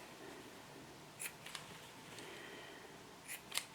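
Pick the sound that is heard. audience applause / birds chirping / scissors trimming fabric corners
scissors trimming fabric corners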